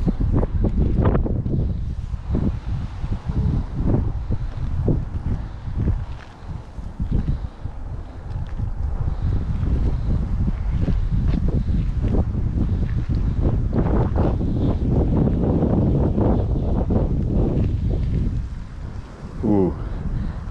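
Gusty wind batters the microphone in heavy, uneven bursts during ditch fishing, with a person speaking intermittently underneath.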